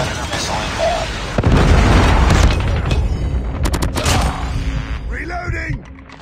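A Predator missile blast in COD Mobile, a loud booming explosion with a rumbling crackling tail, followed by scattered gunfire and game sound effects, with voices calling out over the action.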